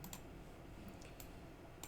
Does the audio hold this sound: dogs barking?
no